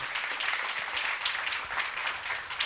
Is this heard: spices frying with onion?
no